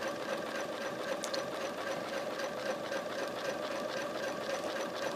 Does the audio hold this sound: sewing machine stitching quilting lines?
yes